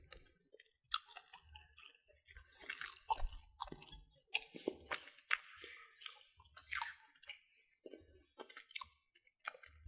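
Close, intimate chewing of macaroni pie, baked chicken and pigeon peas, soft wet squishes and bites in irregular bursts with quiet pauses between.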